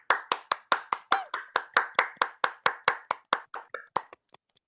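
Audience applause for performers at a Refugee Week writing showcase: roughly twenty slow, evenly spaced hand claps, loud and close, that thin out and fade to a few scattered taps at the end, with no talking.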